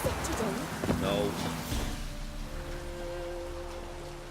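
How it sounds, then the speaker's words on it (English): Rain falling in the fantasy video game The Witcher 3: Wild Hunt, a steady patter with game sounds and a brief bird-like call early on, fading to a softer background hiss. "Looks like rain."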